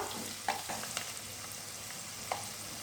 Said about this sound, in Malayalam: പിന്നെ നമ്മൾ കറിവേപ്പില കൂടി ഇട്ട് കൊടുക്കുന്നുണ്ട്. അതൊന്ന് നന്നായിട്ട് ഇളക്കി കൊടുക്കുക.